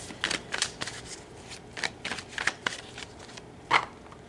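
Tarot cards being shuffled and cut, giving a run of soft papery riffles and slaps in irregular bursts, with one sharper snap near the end, close and fairly quiet, with no talking.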